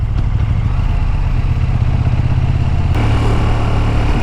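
KTM Super Duke 1290 GT motorcycle riding with a quick shifter, a loud, steady engine roar with constant wind and road rush, and a brief shift in tone partway through.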